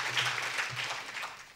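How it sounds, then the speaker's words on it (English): Brief applause from a seated audience at a Chamber of Commerce training gathering, welcoming a guest speaker named Mr. Banu; a short, fairly soft, steady patter of many hands with no voices over it. "let's welcome Mr. Banu with a loud round of applause"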